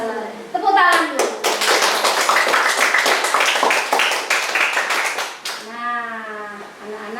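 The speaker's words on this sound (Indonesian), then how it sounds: "Tepuk tangan dulu" Schoolchildren in a classroom clap together in a fast, rhythmic burst lasting several seconds, loud and close, with a voice and children's voices before and after the clapping.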